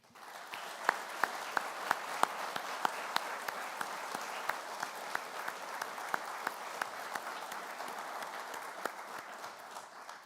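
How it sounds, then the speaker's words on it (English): Audience at the U.S. Naval Institute annual meeting applauds departing directors, a soft, distant roll of many hands with a few sharper individual claps standing out, steady throughout and free of talk. "I'd ask that you please join me in a huge round of applause."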